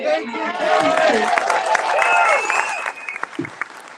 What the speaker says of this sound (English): Keep clapping away.